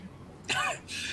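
A narrator voices a woman's coughing fit, giving a short hoarse throat-clearing rasp followed by a second breathy cough, close and alone.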